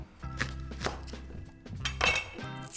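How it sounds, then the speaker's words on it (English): A knife cutting banana or French shallots on a chopping board: a handful of crisp, close knocks on the board at an uneven pace, alone and fairly quiet. "So top, tail, and then you're going to cut down the middle,"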